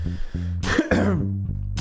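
A person coughs and clears their throat close into a podcast microphone, a couple of harsh bursts with low humming voice sounds around them, no words spoken.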